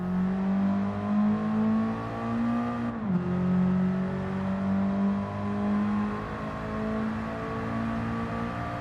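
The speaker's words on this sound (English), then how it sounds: "As an example, here is a Suzuki Swift Sport unmodified." Unmodified Suzuki Swift Sport engine in the Gran Turismo 7 video game, a steady droning hum that dips briefly as if shifting gears, then resumes a smooth, continuous tone throughout.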